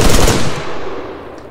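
Automatic gunfire in the video game ARMA 3, a loud dense burst of rapid shots that cuts off and leaves a fading rumble.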